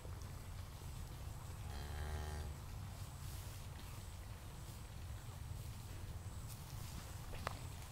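A cow with her calf out in a field gives one drawn-out moo about two seconds in, over steady wind and rumbling background noise, with no voices.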